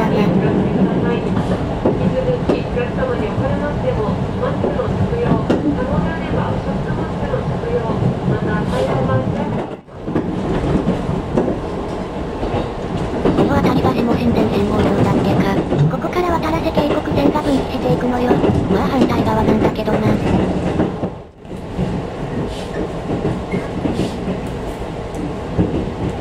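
A train rumbles steadily along the rails after leaving Kiryu, crossing the Watarase River, with a constant roar and faint clatter, briefly dipping twice, with speech mixed in.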